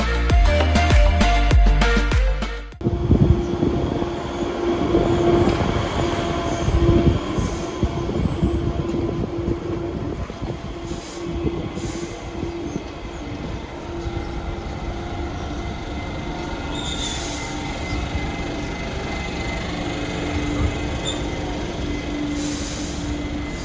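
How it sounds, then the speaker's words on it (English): A Talent 2 electric S-Bahn train rolls into a Rostock station with a steady rumble and faint wheel squeal, wheels clattering over rail joints as it slows, with no voices. "here we can see our train arriving"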